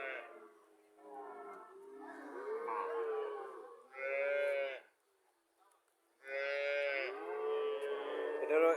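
A cow and calf at the Mirmanni cattle market in Comilla moo loudly and close by, three long drawn-out calls separated by quiet pauses.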